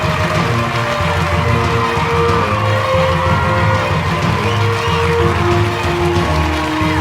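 Audience at the JFW Achievers Awards 2019 ceremony cheers and whoops as Ambika is invited onto the stage, a steady crowd roar filling the whole stretch with tonal background music underneath.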